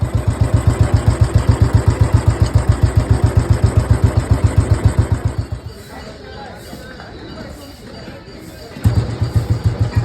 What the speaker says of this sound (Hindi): इंजन अभी आपने इसका स्टार्ट होते हुए देख लिया और इंजन की साउंड बहुत अच्छी निकली थी